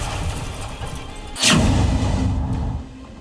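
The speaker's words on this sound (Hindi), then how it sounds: "बम जैसे कार के ऊपर गिरा, पहले धमाका हुआ और फिर गाड़ी कई फीट ऊपर हवा में उछल पड़ी" A bomb blast strikes a car in a news clip, a sudden loud boom over a steady rumbling background, its roar lingering for about a second before dying back down.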